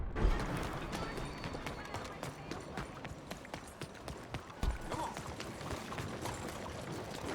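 Horse hooves clip-clop at a steady walking rhythm in the Western game Red Dead Redemption 2, close and fairly even over a low outdoor ambience for the whole stretch.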